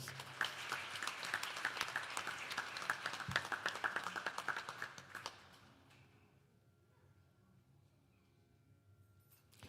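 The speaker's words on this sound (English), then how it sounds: "Give them a wonderful round of applause." Audience clapping at a Hindu temple anniversary gathering, welcoming summer camp children, a brisk burst of many hands that carries for several seconds and then fades out into near silence.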